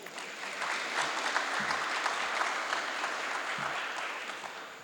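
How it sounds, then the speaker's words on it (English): Guests at Omni Helicopter Guyana's one-year anniversary celebration give a round of applause, dense and sustained clapping at moderate volume, steady from start to finish. "Give him a round of applause."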